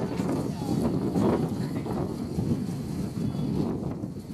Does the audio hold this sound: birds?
no